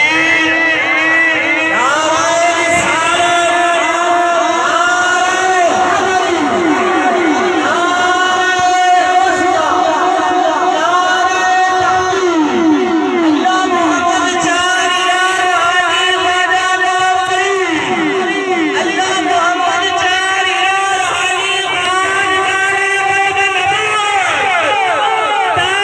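A large crowd at an Urs gathering for Imam Hassan chants a loud, sustained religious slogan, voices merging into a dense, continuous roar that rises and falls in repeated waves for the whole stretch.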